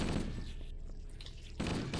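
Rapid gunfire from the video game Halo rattles in dense bursts, a loud spray of shots at the start that pauses, then resumes sharply near the end.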